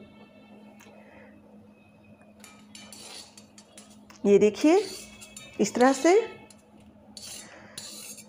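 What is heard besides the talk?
roasted makhana being shifted into another pot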